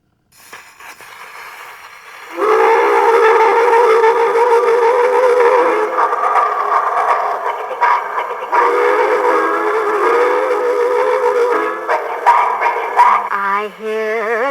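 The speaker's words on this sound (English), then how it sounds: "I hear a train in the night" A loud, sustained train whistle blares with shifting pitch, sounding close and drawn out over the rumble of rail cars.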